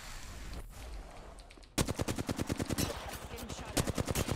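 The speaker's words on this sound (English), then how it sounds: "Getting shot at." Rapid automatic gunfire in Apex Legends erupts after a quieter stretch, a loud close burst of evenly spaced shots continuing to the end.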